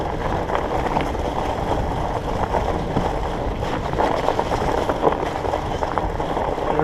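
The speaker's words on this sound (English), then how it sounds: "you can hear the Cascades to the left of us, maybe 100 meters away. Raging rapids." Raging river rapids roughly 100 meters off to the left during a night fat-bike ride on single track, a steady broad rushing roar mixed with wind buffeting, continuous and fairly loud.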